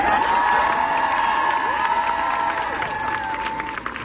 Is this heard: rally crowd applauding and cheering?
yes